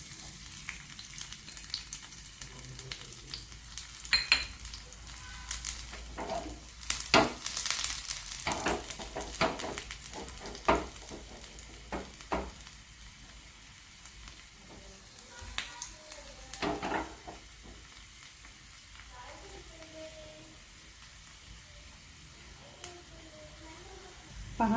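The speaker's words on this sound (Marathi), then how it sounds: "आपण लसूण घालत आहोत." Garlic fries in a pan for a drumstick soup, a steady soft sizzle with occasional stirring scrapes and clinks, heard close, with faint talk at times.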